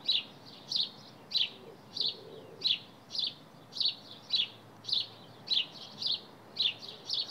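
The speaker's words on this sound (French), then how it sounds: "Comme ça, vous entendez les oiseaux." Outdoor bird chirps repeat in a steady rhythm, roughly two short bright calls per second, fairly faint against a quiet background hum with no talking.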